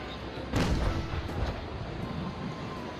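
One heavy cannon boom from an age-of-sail warship in Naval Action, loud and close, followed by a quieter second report and a lingering low rumble, with no talking.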